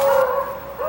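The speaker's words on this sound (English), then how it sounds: "It's hard to believe Roscoe and Flash, Delmarva's most celebrated beagles, are 25 months old and doing what comes naturally, hunting rabbits." A brief, loud, ringing bay from beagles hunting rabbits outdoors in winter, a single drawn-out cry heard close and alone.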